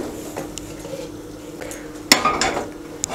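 A soup pot being shifted to the back of the stove, with a few metallic clanks and scrapes of pot on burner, one sharp knock standing out, in a quiet kitchen.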